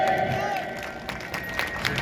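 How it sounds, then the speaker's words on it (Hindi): A rally crowd at a Bhuiyan community gathering claps to welcome Bihar's welfare minister, a dense, steady wash of loud applause and cheering with scattered sharper claps throughout. "एक जोरदार ताली से स्वागत होना चाहिए"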